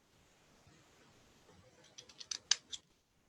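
A run of crisp scissor snips, about six quick cuts in the second half, fairly close, after a quiet stretch.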